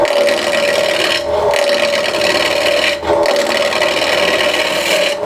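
Wood turning on a lathe in a shop, the gouge cutting a spinning wooden box blank while a hand deflects flying shavings; a close, continuous rasping scrape over a steady motor whine, broken by two brief pauses.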